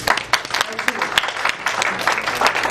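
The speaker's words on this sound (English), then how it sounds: "big round of applause to all these kids" Audience applause for child reciters at a lecture, a steady wash of many hands clapping that holds throughout without stopping, moderately loud and fairly close.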